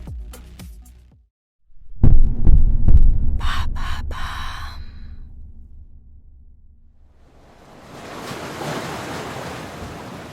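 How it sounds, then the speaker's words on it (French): Ocean waves crash against rocks below a cliff, a heavy rumbling surge that swells, recedes, and builds again into a broad hiss of surf, close and loud, with wind noise. "Il regarde les vagues se briser contre les rochers."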